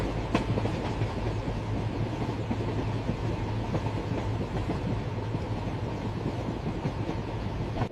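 An express train at Nandigama railway station gives off a steady, loud rumble with continuous rolling clatter from the cars, close by and unbroken for the whole stretch, with no voices.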